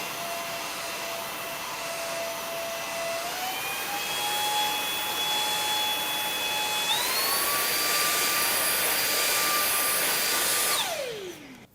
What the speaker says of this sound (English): Here's what the Jet 90 sounds like.